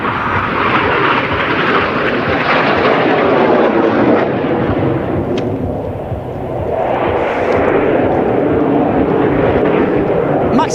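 Military jet flown by Italy's Reparto Sperimentale di Volo test wing in a display flight, a loud, continuous engine roar that dips briefly midway and then swells again.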